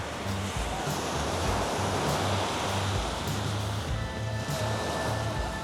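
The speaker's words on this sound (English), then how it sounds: "An awesome beach." Ocean waves wash steadily onto a beach at Ao Nang, a continuous broadband roar of surf that swells and recedes, close and fairly loud, with light wind buffeting the microphone and no talking.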